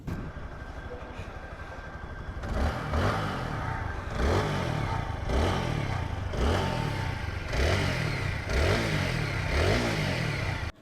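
A 2023 4V Xconnect motorcycle engine idles then revs in steady repeated pulses, loud and close, with a rhythmic throbbing that continues throughout.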